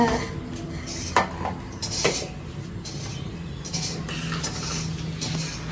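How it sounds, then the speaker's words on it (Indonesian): Plates being tidied and stacked in a home kitchen while eggs are fried nearby. Ceramic clinks and clatters come in irregular bursts, close and moderately loud, over a low steady background. "Aku bantu beresin piringnya ya."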